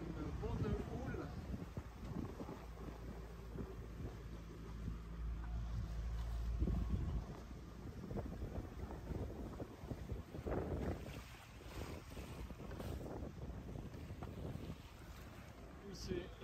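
A sailboat plods slowly through heavy sea swell off the Greek islands, with steady wind buffeting the microphone, water sloshing against the hull and rushing waves, while people talk intermittently over the noise.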